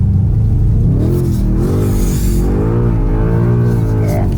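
A new car accelerates with a loud, steady mid-pitched engine drone that climbs and dips in pitch as it pulls, filling the whole interior without talk.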